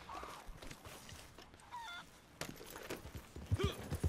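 Chickens in a coop in Red Dead Online give faint clucks and honk-like calls over a dense background of ambient noise, with a slightly louder burst of calls near the end.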